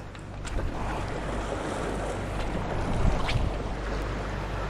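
A small fishing boat rides choppy water, with steady engine drone, waves slapping against the hull and wind buffeting the microphone, no talk.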